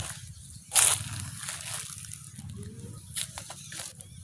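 A drip irrigation system on a farm gives off faint, continuous sloshing and trickling water noise, with one brief louder splash near the start and a few small spurts later.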